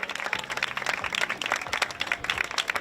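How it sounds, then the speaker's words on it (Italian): Live audience at a regional Miss Italia pageant final applauding the second-place contestant, dense steady clapping throughout, fairly close and continuous with no talk. "E applauso per Miss seconda classificata"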